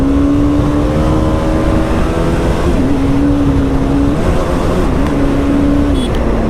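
An RR310 motorcycle engine runs steadily while being ridden, a loud continuous drone that dips and rises in pitch a few times, with no talk.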